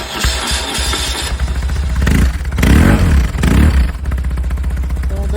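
A 1150 motorcycle with a newly fitted exhaust idling with a rough clattering pulse, then blipped through several sharp revs that rise and fall before settling back to idle, loud and close.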